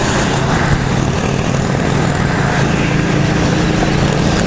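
An Indian Scout motorcycle engine runs steadily at about 3,500 RPM while being ridden. Its loud, constant drone mixes with wind rush for the whole stretch.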